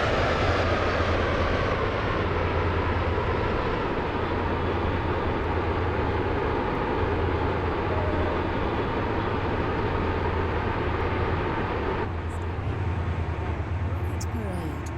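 A train runs steadily as it pulls into a station, its loud, continuous rumble and rolling rail noise filling the whole stretch without a break.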